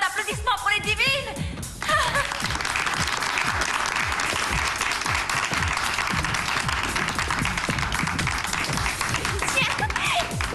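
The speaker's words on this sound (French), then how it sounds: "Faites un tonnerre d'applaudissements pour les divines." Loud, sustained audience applause fills a show hall, dense steady clapping with a few whoops and chuckles after a brief spoken introduction at the start.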